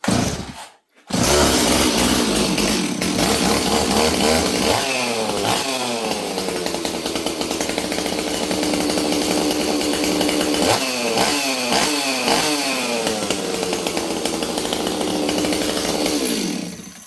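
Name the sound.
Stihl 026 chainsaw running at full throttle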